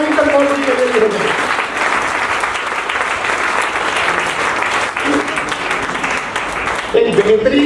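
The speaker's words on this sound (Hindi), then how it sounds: "एक बार जोरदार तालियां दीजिए" Loud, sustained audience applause fills a success celebration event in Kaithal, a dense steady wash of clapping throughout while someone speaks over it.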